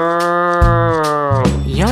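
An animated cow voice gives a long, loud, drawn-out moo followed by shorter rising moos, close and alone with no talk over it.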